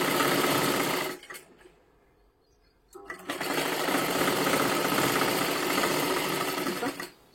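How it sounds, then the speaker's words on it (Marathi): A sewing machine stitching fabric runs in a loud, steady whir, stops for about two seconds, then starts again and runs on before cutting off near the end. "इथे सुद्धा पूर्ण शिलाई मारत मारत घ्यायचं आहे।"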